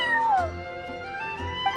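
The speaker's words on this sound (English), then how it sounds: "I'm sorry, that's my neighbor's cat." A cat meows in Genshin Impact, a clear drawn-out meow followed by a shorter second call, close and alone.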